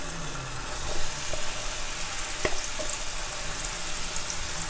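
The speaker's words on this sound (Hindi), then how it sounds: "इसमें मैं डालूँगी 2 चम्मच घी और इसमें मैं अपने छुहारे के पेस्ट को डाल लेती हूँ" Date (chhuhara) paste frying in two spoons of ghee in a pan gives a steady soft sizzle throughout, with a few brief stir scrapes and a sharper clink near the middle, close and fairly quiet.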